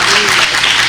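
A church congregation claps loudly for Jesus, a brief, close, dense burst of many hands clapping at once.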